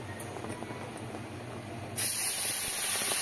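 Whole spices hit hot oil, cumin seeds, a bay leaf and two cinnamon sticks, making a sudden loud, broad sizzle that starts midway after quiet kitchen sounds and keeps hissing steadily, close up.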